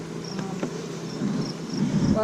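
A soft, steady bee drone hums close by, with a few faint higher buzzes passing over the low hum.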